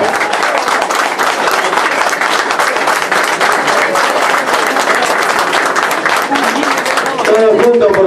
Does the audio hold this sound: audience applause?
yes